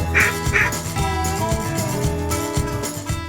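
Ducks quack near a hunting blind on deep water, repeated nasal calls overlapping in a busy, loud flock chorus with no talk over it.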